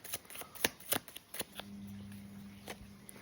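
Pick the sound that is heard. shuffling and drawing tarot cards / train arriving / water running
shuffling and drawing tarot cards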